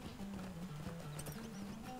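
Horse hooves clop in a steady, quick rhythm in the online fantasy game The Lord of the Rings Online, with faint whinnies, heard alone at a low level.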